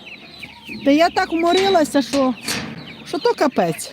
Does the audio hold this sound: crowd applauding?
no